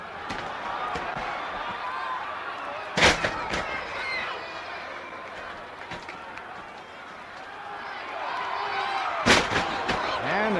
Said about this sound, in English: And they take turns at body slams.